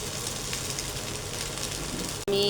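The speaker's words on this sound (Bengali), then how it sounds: "আমি চিড়াটাকে সবজির সঙ্গে আরও 5 মিনিটের মতো ভেজে নেব।" Prawns frying with vegetables in a pan, a steady close sizzle running continuously before breaking off abruptly near the end into a louder, brighter hiss.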